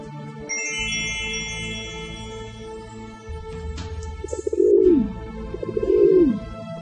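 A cartoon dove sound effect in a children's fairy-tale animation: after tinkling magical chimes and a soft musical backdrop, two distinct bubbly coos ring out clearly, about a second apart near the end.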